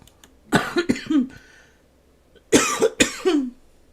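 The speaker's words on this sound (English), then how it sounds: "Great, now I'm coughing." Someone with a cold coughs in two close bursts, each a cluster of three harsh coughs separated by a second of quiet.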